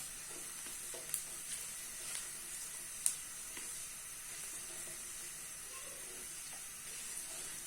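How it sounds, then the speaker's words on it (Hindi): Whole cumin seeds frying in a pan with garlic give a quiet, steady sizzle and hiss, with a few faint clicks and taps from stirring scattered throughout. "अब ये मेरे पास है 1 टेबल स्पून साबुत जीरा, इसको भी डाल के हम हल्का सा फ्राई कर लेंगे।"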